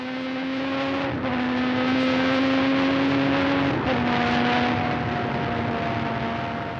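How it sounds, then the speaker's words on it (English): An onboard Formula 1 car driven by Warwick accelerates hard toward Tamburello at near 190 mph. The engine screams loudly and continuously, with two quick upshifts that briefly dip the whine before it climbs again. "Warwick accelerates hard, approaching 190 miles an hour by the time he turns into Tamburello"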